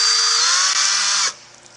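Electric drill boring into a strong machinable aerogel disc, a steady high whine that runs about a second before stopping abruptly, close and alone.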